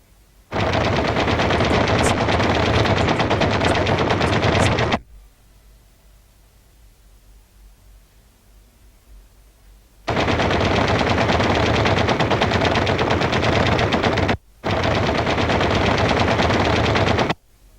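Heavy aircraft cannon aboard a B-25 Mitchell bomber firing loud, sustained bursts: a roughly four-second burst, a pause, then two more long bursts split by a brief gap, dense and close.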